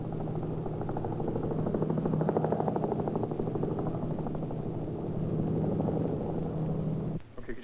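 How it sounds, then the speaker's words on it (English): A police helicopter passes overhead with a steady rotor hum and a chopping pulse that holds loud and even for about seven seconds before cutting off sharply near the end. "Sometimes a police helicopter will be sent out to try and locate the criminals from the air."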